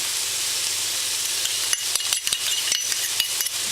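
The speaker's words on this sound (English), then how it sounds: "And then we'll stir that a little bit and then add some soy sauce" Garlic and ginger fry in a sauté pan with a steady close sizzle, then a run of sharp utensil clinks and scraping stirs in the second half.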